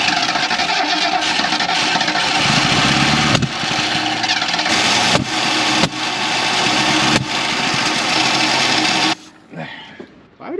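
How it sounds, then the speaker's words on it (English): A 1977 Mercury Grand Marquis V8 sputters and coughs as it struggles to run, backfiring through the carburetor with sharp pops over a rough, loud engine roar before cutting out near the end. "Backfiring out of the carb like a mother trucker."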